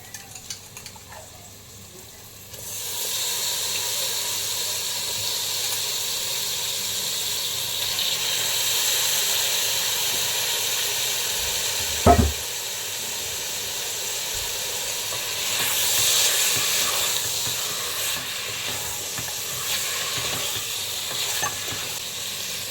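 Washed chicken pieces sautéing in a pan for a gravy, a loud continuous sizzle and hiss after a quiet start, with one sharp metallic clink midway and no speech.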